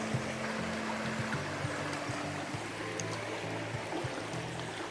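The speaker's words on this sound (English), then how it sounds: "the water running." River water in eastern Portland runs in a soft, steady rush that continues without a break, alongside a low droning hum.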